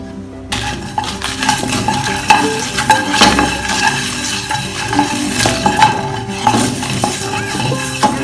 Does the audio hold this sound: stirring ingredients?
yes